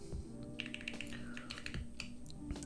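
Typing on a Thera75 plateless mechanical keyboard gives rapid, quiet, irregular key clacks and taps in a steady flurry, close and alone without any talk.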